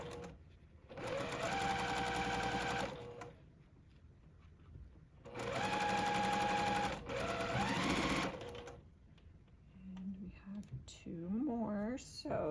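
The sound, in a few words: sewing machine stitching curved quilt block seam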